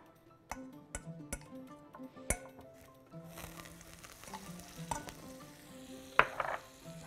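Vegetables beginning to sauté in a hot pan, a soft sizzle that builds partway through, with sharp clinks of a utensil against the cookware near the start and again toward the end.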